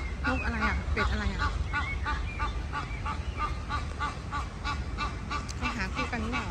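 Ducks honk repeatedly in quick, nasal bursts, close by, with a steady background hum.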